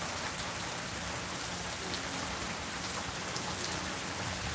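Steady rain falls outdoors on an island at night, a dense even patter with scattered drops striking nearby surfaces, continuous and moderately loud with no voices.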